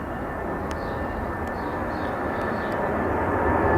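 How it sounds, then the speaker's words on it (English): A wide-body jet takes off from an airport on a long-haul flight, heard as a steady, broad engine roar that swells slightly, with faint outdoor sounds. "A wide-body plane now taking off from the airport, off on a long-haul flight somewhere."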